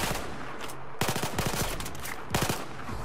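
Close gunfire in the video game Battlefield 4, with rapid bursts of machine-gun shots arriving in three loud clusters over a constant noisy battle background.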